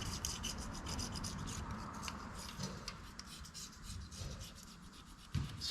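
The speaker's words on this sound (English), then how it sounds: "Scrape that off really nice." A razor blade scraping old residue off an engine part during assembly of a Silverado Stepside engine: continuous close, gritty rubbing strokes with a steady rhythm and no talk.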